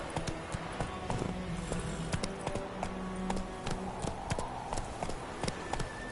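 Hooves of a galloping horse in The Witcher 3 strike in a quick, even rhythm, each beat sharp and fairly close, set over a constant wash of in-game background sound.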